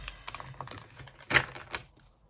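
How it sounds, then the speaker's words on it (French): Tarot cards being shuffled by hand, a short run of quick papery riffles and taps, close and soft, with one louder flutter near the middle. "je vais d'abord mélanger, à force de tirer les cartes"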